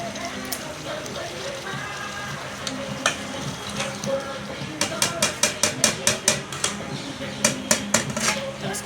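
Masala with ginger-garlic paste fries in a pan with a steady, close sizzle, and a run of sharp spatula taps and scrapes against the pan comes in during the second half.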